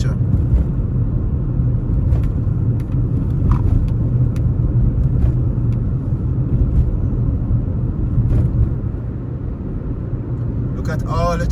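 Steady road traffic rumbles on a hillside road heading back into Montego Bay, Jamaica, a continuous low engine and tyre drone with faint passing-vehicle swells and a few light clicks throughout.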